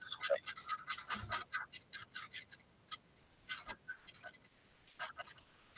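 A home sewing machine taps out quick, uneven bursts of stitching, light clicking pulses that start and stop close by in a quiet room.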